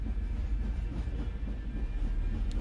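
A train rumbles past with a low, steady rolling roar and faint rail clatter, ending in a sudden louder burst.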